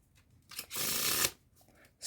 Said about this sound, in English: Let me do a forward shuffle too.